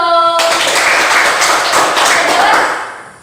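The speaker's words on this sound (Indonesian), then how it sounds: "Tepuk tangan dulu." Students in a classroom applaud together, a steady, full burst of clapping close by that holds for a few seconds before tapering off at the end.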